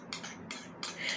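A utensil stirs hair mask ingredients, oil among them, in a bowl, with a few quick, light clinks and scrapes against the sides in a short burst.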